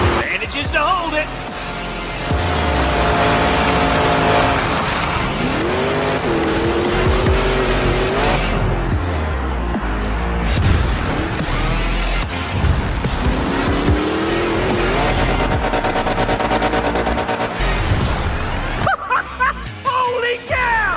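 Monster trucks at a Monster Jam arena event roar with loud, continuous engine revving and repeated tire squeals. A commentator's voice rides over the noise throughout.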